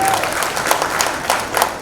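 An audience at a press conference for the Triveni music event claps for a singer, a brief burst of lively, crisp applause with distinct individual claps standing out.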